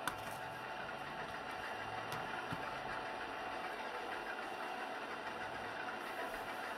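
An AI-driven farm vehicle's engine in Farming Simulator 22 idles with a steady, low, even drone, faint and unbroken throughout with no talking.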